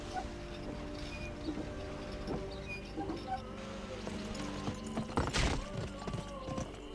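Horse hooves clip-clopping in the Wild West video game GUN: a quiet run of hoofbeats under game ambience, with a louder rushing burst near the end.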